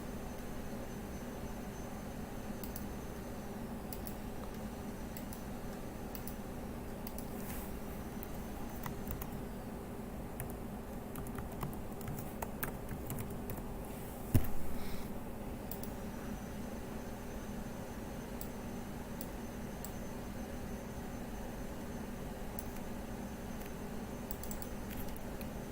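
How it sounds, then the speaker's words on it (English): Typing on a computer keyboard in a quiet room, a steady run of faint, soft key clicks over a hiss of background noise, with one slightly louder knock partway through. "I'll type this again on this one."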